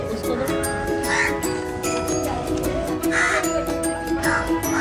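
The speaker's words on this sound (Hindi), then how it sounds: "क्या खा रहा है कौआ?" Crows caw repeatedly and close by while being fed by hand, in short harsh bursts, with people talking over the calls.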